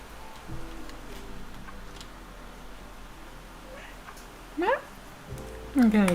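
A cat gives a couple of short meows near the end after a quiet stretch with faint background noise.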